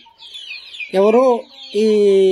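A rooster gives two loud, close clucking calls, the second held longer, while small birds chirp faintly in the background.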